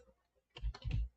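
Quick bursts of keystrokes clatter on a computer keyboard at close range, a short cluster of clicky taps after a near-silent pause, with no talking.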